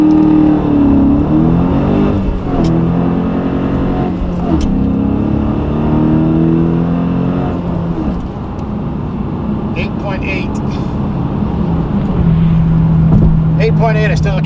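A Dodge Challenger R/T Scat Pack on an eighth-mile run, its engine droning loudly and rising through gears with steady, continuous power, while a voice talks over the car throughout.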